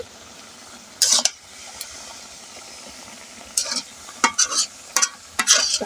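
Boiled lentils and taro leaves being stirred in a pan, with bursts of scraping and clinking from a spoon against metal separated by quieter stretches of low bubbling.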